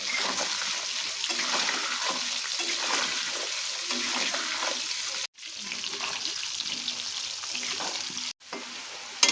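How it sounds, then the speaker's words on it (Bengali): Potato pieces with salt and turmeric frying in hot oil for chicken curry, a steady close sizzle with stirring, broken twice by sudden brief cuts to silence. "এবার আলুটাকে ভাজার জন্য আমরা কিছুটা লবণ দিয়ে দিলাম"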